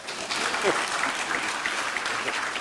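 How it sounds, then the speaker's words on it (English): An audience at a post-screening film conversation gives a steady round of applause, dense and close throughout, with a voice faintly audible near the start. "give him a round of applause, yo"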